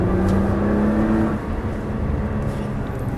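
A Nissan GT-R accelerates at full throttle, a loud close engine roar with a rising tone that drops off partway through and settles into a lower steady drone.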